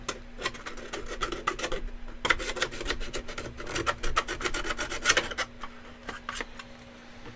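Hand file rasping back and forth on a workpiece, a long run of quick, even strokes up close, loud and steady with brief pauses, no one speaking.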